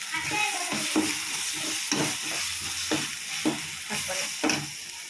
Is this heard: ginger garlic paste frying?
yes